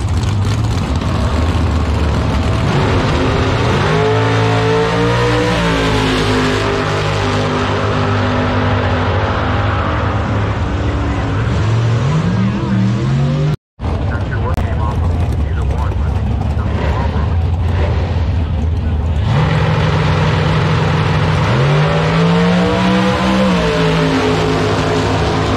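Doorslammer trucks drag racing at Piedmont Dragway, engines roaring loud and sustained with rising revs through the run and a brief dropout midway, crowd noise and commentary underneath.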